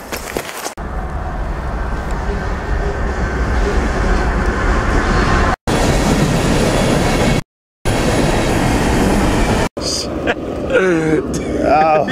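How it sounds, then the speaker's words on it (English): A train rolls past close by with a loud, continuous rumble and clatter of wheels on rails. The sound is broken by a few abrupt cuts, and a voice is heard briefly near the end. "Oh, I hear a train."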